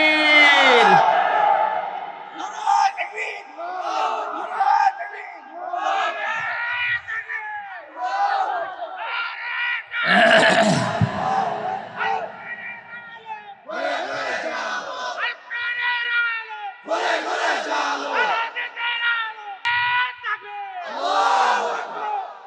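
A large crowd at an outdoor religious sermon roars the takbir in unison, several loud collective shouts in a row answering a preacher's calls, with his amplified voice speaking between them.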